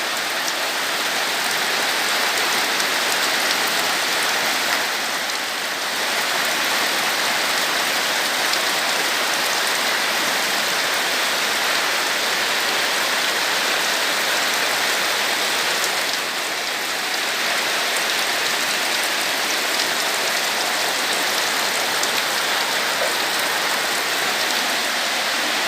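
Heavy rain falls steadily on a rainy day among bamboo, a dense, even hiss of drops hitting surfaces that lasts throughout with no voices.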